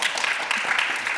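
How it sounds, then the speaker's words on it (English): A short burst of audience applause, dense and even, with many hands clapping together. "I think that deserves a round of applause first."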